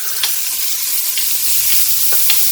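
Onions sizzle steadily in hot oil in a pan, a constant bright hiss with a few soft crackles and pops rising above it, heard alone with no talking.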